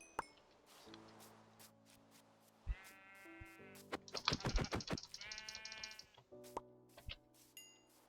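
Sheep in the Minecraft video game bleating in a quick cluster of wavering, nasal calls over game sound effects and clicks, fairly close and clear, with no talking.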